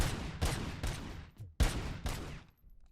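Single-shot gunfire from a weapon in the action game Robocop Rogue City: five loud, close shots with short reverberant tails at an uneven pace, plus a faint click between them.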